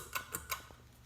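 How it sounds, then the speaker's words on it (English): Ceiling fan pull chain on a four-blade fan without a light kit, three quick light clicks in fast succession, faint and close in a quiet room. "with the light kit off, the pull chain clicks sound different"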